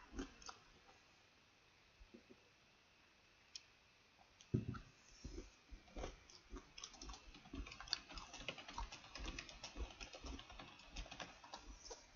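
Soft keyboard typing, sparse at first and then a quicker, steady stream of clicking keystrokes, fairly faint and close.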